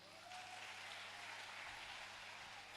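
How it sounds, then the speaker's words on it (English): Audience applause for a program coordinator at a menstrual hygiene awareness day and health screening event, a steady wash of clapping heard faint and distant throughout. "So please clap for her again."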